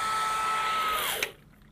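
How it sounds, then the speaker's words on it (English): A hair dryer runs with a steady loud whir, then its tone slides down and cuts out with a brief splash as it is dropped into water, leaving quiet. "the outlet's live, the hairdryer is going, and if I take it and drop it in the water"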